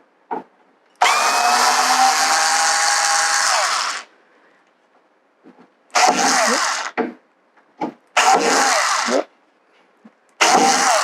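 An electric screwdriver removes fittings from a piece of furniture being dismantled for upcycling, in bursts of loud whirring: a long three-second run, then several shorter spins and brief blips separated by quiet pauses.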